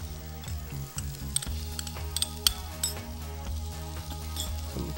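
Yellow pepper, red onion and mushrooms sauté in a hot pan with zucchini and Kalamata olives, giving a steady sizzle over a low hum, broken by a few sharp scrapes and clinks as the vegetables are stirred.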